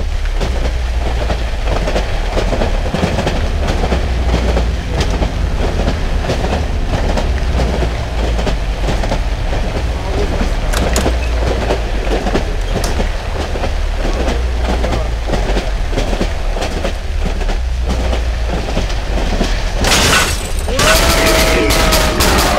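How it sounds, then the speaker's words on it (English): A train rolls along rails in the horror video game Cry of Fear, a continuous loud rumble with rhythmic clatter throughout and a sharp metallic burst near the end. "it's choo-choo train time"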